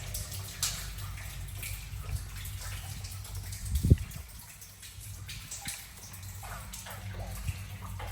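A bucket hauled up from a village well sends water sloshing and splashing, with one sharper splash near the middle over a steady low wash of water noise.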